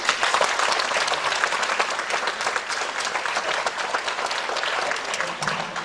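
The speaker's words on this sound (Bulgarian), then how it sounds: "Дами и господа, аплодисменти за Хекмет и Красимир" An audience at a municipal brass band's 50th anniversary concert applauds young soloists, with dense, even clapping from a full hall sustained for several seconds at moderate volume.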